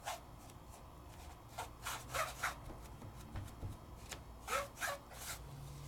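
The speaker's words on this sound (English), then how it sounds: "I can add more if I want and kind of tap it in and then burnish it on in" Flakes are burnished by hand onto a whimsical watercolor craft piece, producing quiet, repeated short rubbing strokes in small bursts, close up with no talking.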